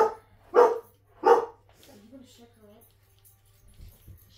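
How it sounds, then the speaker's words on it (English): A pet dog barks twice, loud and sharp, indoors in the background of a Christmas crafting session, followed by softer whines and grumbles. "I'm sorry for my dog in the background"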